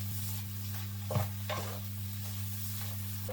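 Onions with a bay leaf sizzle gently in olive oil in a pan, a soft steady crackle under a low electrical hum, with a few brief clinks and stirring scrapes.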